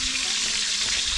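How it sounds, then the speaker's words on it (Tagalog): Bottle gourd (upo) sizzles steadily in a hot pan as it is sautéed, a close, dense frying hiss with faint stirring, no voices. "Gisa naman, gisa. Gisang upo."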